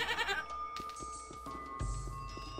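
In Gothic 2, a few goat bleats come through over the game's background music, fairly close and clear, with no one talking.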